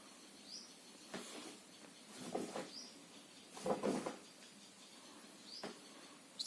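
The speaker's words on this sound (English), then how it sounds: "these are real birds, if you can hear them in the background." Faint, sparse bird chirps sound in the distance over a quiet room, with a few soft rustles and clicks nearby.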